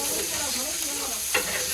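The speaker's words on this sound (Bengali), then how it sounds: "এখানে পনিরটা একটু ভেজে নিচ্ছি তাওয়ার মধ্যে একটু লাল লাল করে নেব" Paneer fries on a hot tawa with a steady close sizzle and a brief scrape of stirring near the end.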